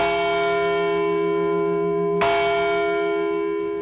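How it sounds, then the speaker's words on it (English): A church bell in the bell-making town of Agnone, Italy, rings out loud and close, one long humming tone joined by a fresh strike partway through, with no voices. "The town is famous for its bells."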